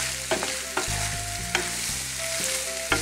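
Half-cooked pasta refrying in a hot pan with a cold vegetable sauce to follow, a close, continuous sizzle broken by several scraping stirs of the pan.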